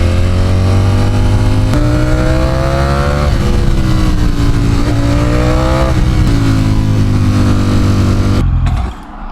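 A 2025 Ducati Panigale V4 being ridden, its loud engine droning close with a steady harmonic note that rises and falls through throttle changes and shifts, then cuts away sharply near the end.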